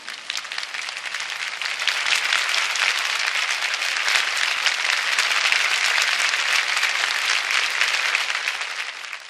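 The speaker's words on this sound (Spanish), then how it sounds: "Una intervención muy aplaudida por muchos" A large crowd applauds at a memorial gathering after a spoken appeal for dialogue, the clapping building quickly from scattered hands into a loud, dense, sustained ovation that tapers slightly at the close.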